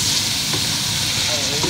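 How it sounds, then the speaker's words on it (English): Mixed vegetables sauté in a hot pan with a loud, continuous sizzle and hiss, joined by a few faint scrapes of stirring, close up and without speech. "my vegetables, saute them a little bit together"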